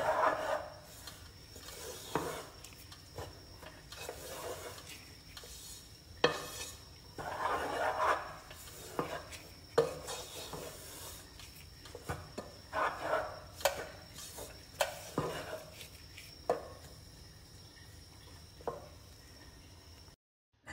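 Flour stirred continuously in a pot as it toasts for a date-syrup asida, with repeated soft scraping and knocking strokes at an uneven rhythm, fairly quiet and close.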